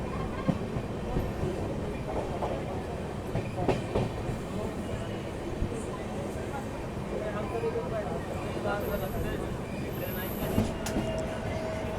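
Inside a general coach of Indore–Gwalior train 19325 passing Laxmibai Nagar station, a continuous low rumble of wheels with soft rhythmic clatter fills the space, while passengers' voices murmur throughout.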